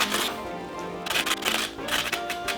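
A knife chops ginger finely on a cutting board for a Réunion-style sausage rougail, giving rapid clustered taps in bursts, close up, with music playing underneath.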